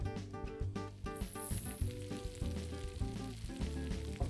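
Battered mushroom tempura dropped into hot frying oil, a continuous close sizzle and crackle that persists throughout over a steady tonal background hum.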